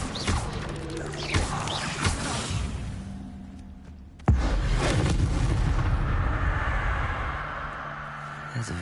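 Casting the Incendio fire spell in Hogwarts Legacy: a sharp, loud blast bursting out midway, followed by a roaring, whooshing rush of flame that gradually fades, with scattered crackles and impacts before it.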